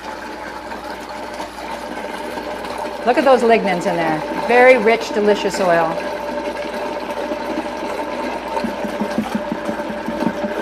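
A kitchen blender motor runs at a low setting with a steady whir while oil is poured in slowly, and someone talks over it.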